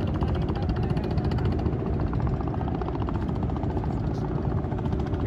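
A fast passenger boat speeding along the Musi River in Palembang gives a steady, loud engine drone that fills the whole stretch without letup, with people talking nearby.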